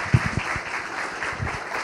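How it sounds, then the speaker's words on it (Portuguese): A small audience at a Laravel programming talk gives the speaker a brief, scattered round of applause. Individual claps stand out near the start and blur into a soft, even patter. "uma salva de palmas para o Gabriel"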